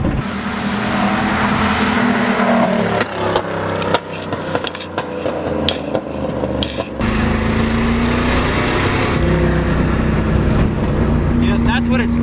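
A 1986 Pontiac Trans Am muscle car engine runs loud and rough, a heavy droning roar that dips and surges as the revs change, close to the listener.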